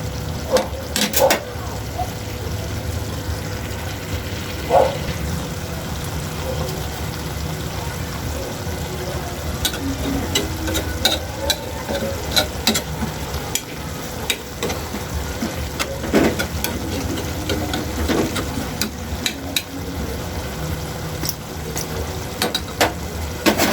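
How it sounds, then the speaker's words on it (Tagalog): A pot of coconut milk stew with moringa simmers with a continuous low bubbling and crackle. Scattered clinks and scrapes from cookware come through during the boil. "Hintay-hintayin po natin uh, kumulo pa ng ilang uh, segundo."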